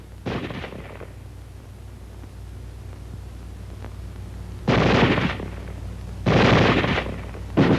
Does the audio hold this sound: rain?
no